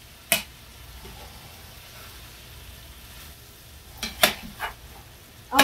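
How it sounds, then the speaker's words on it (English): Onion poured over meat sizzles in a pan with a steady soft hiss, punctuated by a few sharp clacks from stirring utensils against the pan. "that is loud sizzling."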